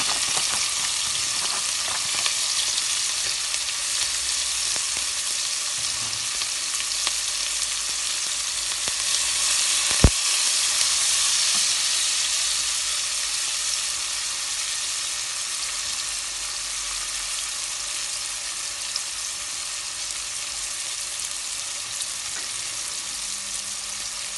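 Onions fry in hot oil for rice, a loud, steady close sizzle that runs unbroken for the whole stretch, with one sharp click near the middle and no voices.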